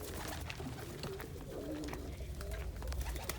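Pigeons coo steadily inside a loft, soft rounded calls repeating close by over a constant low murmur of birds, with no talking.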